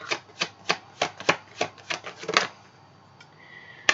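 Tarot cards are shuffled in a quick run of about a dozen crisp riffles and slaps, then the noise fades to a faint slide and one last soft tap as a card is drawn; no one speaks.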